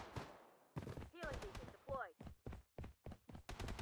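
Rapid bursts of gunfire in the video game Blood Strike crack in quick succession, punchy and loud, with short gaps between volleys.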